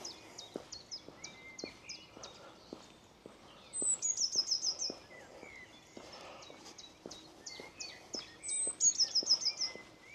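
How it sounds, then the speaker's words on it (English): Small birds singing beside the Medway river, repeated bright chirps and trilled phrases from near and farther off, with soft regular tapping footsteps throughout. "it's just you and the sound of the birds and the water lapping against the side of the sort of river bank"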